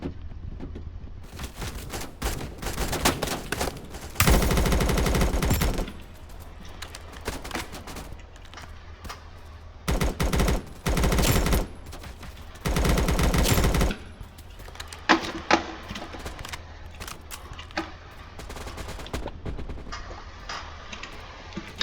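Automatic gunfire in the video game Blackhawk Rescue Mission 5, with several loud sustained bursts and scattered single shots spread across the stretch, quieter game ambience in between.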